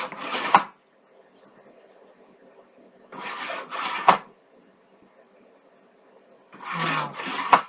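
Scissors trimming a paper craft piece for a glam-themed project, three separate bursts of close crisp cutting, each a short double snip, with quiet pauses in between and no talking.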